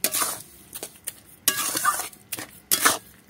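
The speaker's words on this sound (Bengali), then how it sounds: "এবার এটা আস্তে আস্তে পাক খাবো।" A carrot laddu mixture with sugar being stirred in a pan, heard as repeated bursts of scraping and clinking of utensil against metal, separated by brief pauses, close and fairly loud with a faint sizzle.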